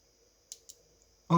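Two quick, small plastic clicks close by as a connector snaps into place while fitting xenon headlight auto-levelling to a VW EOS, over a quiet background, followed by a louder burst of sound at the end.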